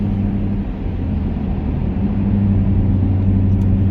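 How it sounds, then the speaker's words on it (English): A steady low rumble of a car driving in rush hour traffic, with constant road and engine noise and no voices. "I'm in rush hour traffic right now, and it's insane as always."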